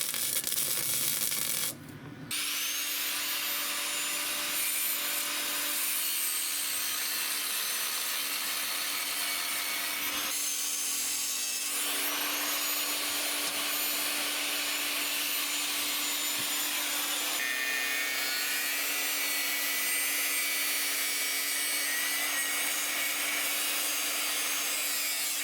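A power tool cuts away the original sides of a welded trolley frame for a 4-inch traction engine. The steady, harsh, high-pitched cutting noise runs close and loud for the whole stretch, with one brief pause early on.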